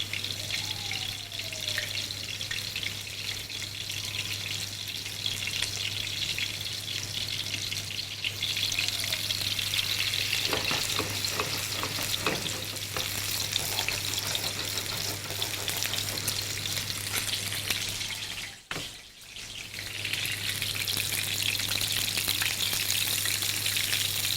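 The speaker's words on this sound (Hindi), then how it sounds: "इस तरह से आपने इसको फ्राई करना है, सब तरफ से कलर देना है।" Seekh kebabs made from finely minced meat fry in a pan with a steady, close sizzle, joined by brief stirring and clinking and a short tap-water run, with no talking.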